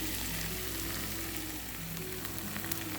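Bhindi (okra) frying in a thick spiced masala in a pan, a dense, continuous sizzle at close range with faint stirring scrapes mixed in.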